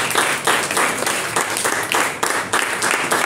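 A church congregation applauding the Lord after a sermon reading, rhythmic unison clapping in repeated surges, loud and close, filling the room.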